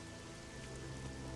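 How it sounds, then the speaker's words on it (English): Steady, dense rain hiss with a low rumble in the video game The Witcher 2: Assassins of Kings, continuous and even throughout a short stretch with no talking. "I can't wait to fight in the rain."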